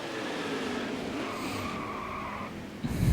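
A race car in NASCAR Heat 5 at Kentucky Motor Speedway roars loudly and skids with tire squeal, ending in a sudden low crunching impact as it crashes.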